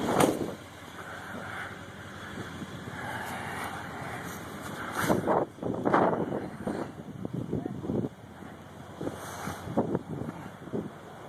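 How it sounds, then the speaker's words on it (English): Gusty wind buffets the microphone outdoors in rumbling surges as a storm approaches, while a person talks over it. "Ooh, it's windy out there. Here comes the storm."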